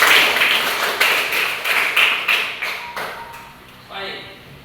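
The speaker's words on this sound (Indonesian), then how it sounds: "Tepuk tangan buat teman kita." A classroom of students applauds a classmate in several quick bursts of clapping that gradually thin out and fade toward the end.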